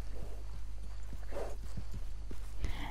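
A thoroughbred horse's hooves clip-clop at a walk in the video game Red Dead Redemption 2, a regular series of close, distinct hoof strikes over a low steady background hum.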